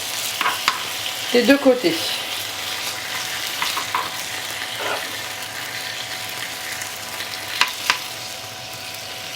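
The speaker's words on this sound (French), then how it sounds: "le fait de les faire revenir à feu vif permet de les dorer" Duck aiguillettes frying over high heat in a small pan, a soft continuous sizzle broken by a few stirring scrapes and clinks, with a brief word of speech near the start.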